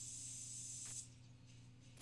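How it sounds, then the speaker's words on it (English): A scent spray can used as a hunting lure in theHunter Call of the Wild gives a steady, loud hissing spray for about a second. It then drops to a softer, continuous background hiss, with a brief burst near the end. "can of spray that animals are interested in"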